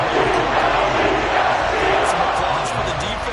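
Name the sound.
stadium crowd cheering for the defense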